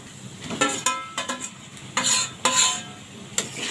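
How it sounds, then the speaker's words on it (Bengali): Chicken pieces tossed into cooked-down spices in a pan and stirred, with a string of close scraping, clattering strokes and bursts of sizzle between short pauses. "মশলাগুলো এখন কষানো হয়ে গেছে, এখন দিয়ে দিব মাংস।"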